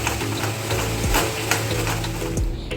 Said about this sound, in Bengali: এবার ভালো করে মিক্স করে নিচ্ছি।